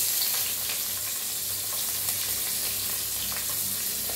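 A spoonful of cumin seeds and asafoetida sizzles in hot oil at the start of a spiced ridge gourd dish, a bright, constant frying hiss with light crackles up close.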